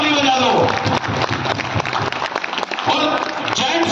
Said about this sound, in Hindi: एक बार हमारी माताओं के नाम की ताली बजा लो